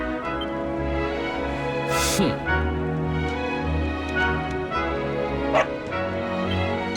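A dog in the video game Dragon Quest XI S barks and yips in a few short bursts over a sustained musical background, with whimpering sounds and a brief cry mixed in.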